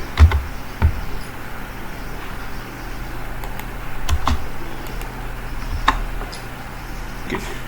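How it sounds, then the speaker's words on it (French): Typing on a computer keyboard as a search query for mini USB blenders is entered, scattered close key clicks in short bursts over a quiet background hum. "Donc on tape mini mélangeur USB."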